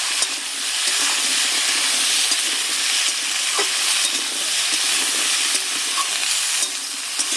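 Cut potato, pumpkin-green stems and pointed gourd stir-fry over onion and garlic in a pan, giving a loud, continuous sizzle with brief spatula scrapes and knocks scattered through.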